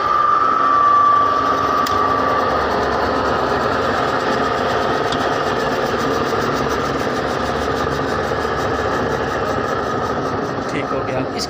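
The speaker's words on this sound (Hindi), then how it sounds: "इस ड्रायर को हम चला देते हैं।" Papad dryer machine running to spin oil out of fried papad, a steady loud mechanical hum and whir throughout with a faint high whine, while a person talks over it.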